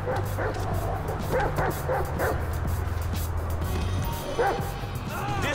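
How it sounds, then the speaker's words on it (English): A dog in the video game GTA 5 barks and yips repeatedly in short bursts over steady background rumble and game ambience, with a few whimpering cries near the end. "right here is one sick, nasty-ass motherfucking dog"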